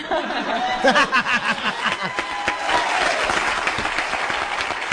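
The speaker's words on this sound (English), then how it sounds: "here's another one as he tries to get a cheap applause" Studio audience applause on a radio talk show, breaking out loud and steady in the second half after talking voices with a bit of laughter.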